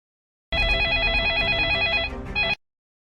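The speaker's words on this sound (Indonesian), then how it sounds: "Kenapa ibu tak angkat telepon? Ayah juga tak angkat telepon." A telephone rings steadily and unanswered at night, a loud electronic trill repeating for about two seconds with a brief dip near the end, and no voices over it.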